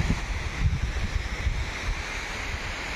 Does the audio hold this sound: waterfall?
yes